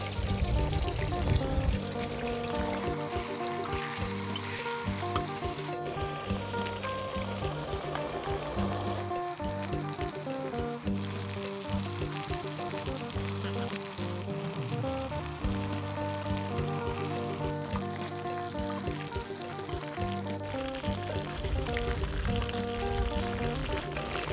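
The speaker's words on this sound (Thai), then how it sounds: "เดี๋ยวเราจะนำไก่นี้ไปทอดนะคะ" Steady, loud sizzling and crackling of fermented chicken wings deep frying in hot oil, continuous throughout with no talking.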